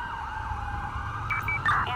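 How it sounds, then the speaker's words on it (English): An ambulance siren wails in Grand Theft Auto roleplay, a loud continuous rising-and-falling tone with no talk, joined near the end by sharper, higher siren yelps. "start me an ambulance"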